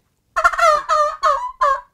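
A turkey gobble tube call worked to imitate a young jake's half-hearted cackling gobble: four quick, rattling bursts in a row, loud and close, with no talking.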